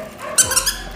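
A senior female dog at an animal shelter lets out a few short, sharp yips or squeaky barks, close and fairly loud, amid faint room noise.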